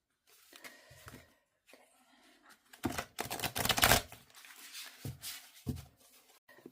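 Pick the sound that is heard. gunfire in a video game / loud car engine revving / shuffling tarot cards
shuffling tarot cards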